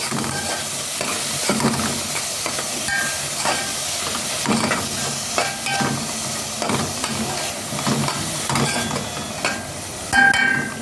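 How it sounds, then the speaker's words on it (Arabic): Grated carrots are stirred in a hot pot while cooking a meatless stuffed zucchini dish, giving a steady frying sizzle broken by repeated scraping strokes of a spoon against the pot. "هبتدي اقلب"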